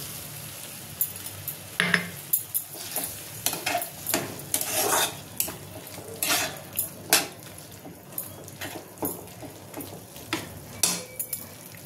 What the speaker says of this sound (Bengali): জল মিশিয়ে নেবো এর মধ্যে কর্নফ্লাওয়ারটা